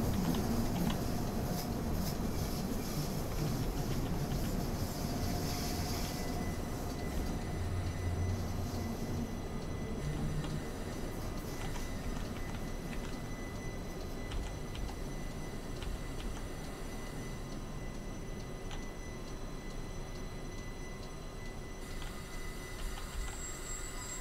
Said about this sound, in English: So here we are, and there's a train.